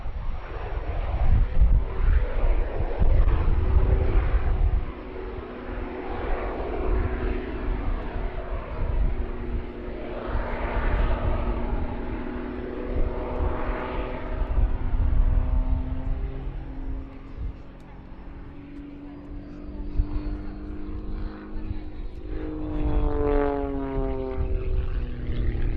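Jet Pitts aerobatic biplane with piston and jet power performing at the Duxford summer airshow, its engine roaring and whining in passes that swell and fade with Doppler sweeps, a commentator's voice occasionally audible beneath.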